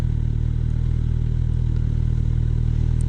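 A 2018 Kawasaki Ninja 1000 motorcycle rolls along on the road, its engine a steady close drone with constant low rumble and wind noise, no clear gear change standing out.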